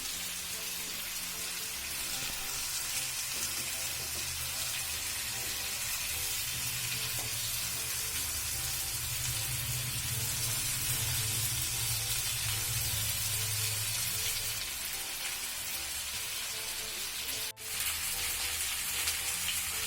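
Chicken pieces for Chicken Afghani frying in a pan, a steady dense sizzle that runs throughout with one brief clatter near the end, no voices.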